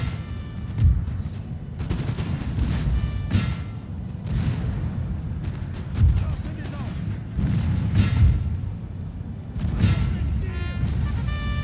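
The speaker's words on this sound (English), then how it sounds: "so hopefully I can get some nice artillery covering fire on these musketeers" Artillery fire in the Napoleon: Total War battle game, several deep booms and cracking volleys recurring every few seconds amid a continuous battle din, with someone talking over it.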